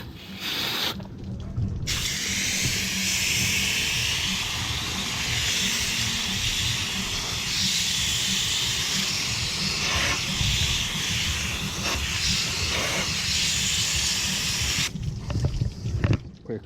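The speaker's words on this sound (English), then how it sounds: "Now, quick rinse this way." Water spray rinses an air conditioner unit, a steady close hiss running for about thirteen seconds between short pauses at the start and end.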